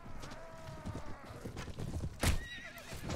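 A horse neighs loudly in Mount & Blade Warband, an armored mount in a medieval battle, its whinny rising over clip-clopping hooves and the clatter of a charge.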